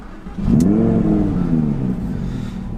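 An Audi R8 V10 Plus engine fires up with a sharp burst and settles into a loud, throaty rev that rises and falls, close by with no talking.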